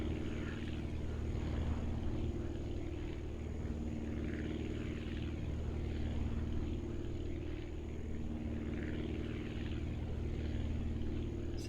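Propeller aircraft engine in the video game Aviassembly, a steady droning hum with a constant low tone running throughout, moderately loud and alone without talk.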